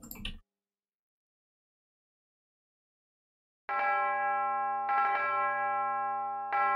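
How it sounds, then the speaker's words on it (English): Tubular bell voice from a MIDI instrument in a Space Quest 4 soundtrack being remixed, sounding alone after a brief silence, with three sustained, ringing strikes that overlap and decay, loud and close. "tubular bell. Let's see what that what that does."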